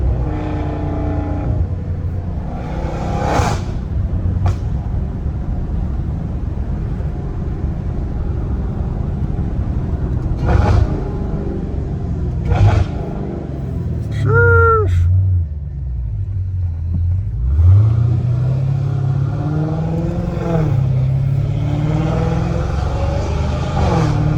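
A straight-piped 850 hp Dodge Hellcat Redeye with its exhaust valves open rumbles deep and loud at idle, broken by a few brief rising revs and sharper pops over a continuous low drone.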